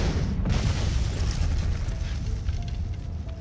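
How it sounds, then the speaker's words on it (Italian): Bazooka fire and explosions in a nighttime ambush on Viet Minh-attacked vehicles roll together as a dense, sustained roar of booming blasts, loud and close with no clear gaps between detonations. "L'oscurità viene squarciata dalle fiammate dei bazooka dei Viet Minh che aprono il fuoco."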